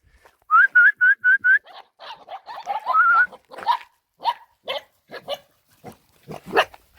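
A puppy whimpers nearby in a quick run of high, whistle-like whines, then lets out a scattered series of short yelps and squeals, with no talking.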